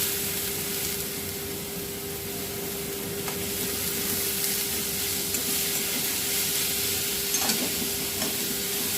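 Onion fries in a pan under a steady, even sizzle and hiss, with a few soft scrapes from stirring; no voices.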